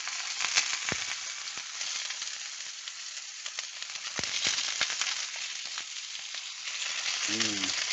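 Onions fry in hot, shimmering oil, giving off a continuous bright sizzle broken by sharp pops and splatters, with a short low voiced sound near the end.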